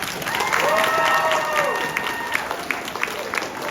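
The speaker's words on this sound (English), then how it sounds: "Please give a round of applause to our greatest actor, Pantalone." Audience applause for the actor playing Pantalone at a Cinderella stage performance, steady clapping beneath a sustained musical tone that fades, then thinner, scattered claps.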